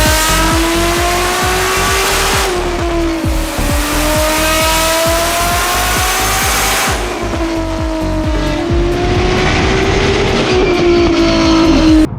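A Toyota Supra drift car engine, freshly rebuilt and tuned, roars at high revs, climbing and dropping through gear changes with occasional tire squeal, loud and close throughout.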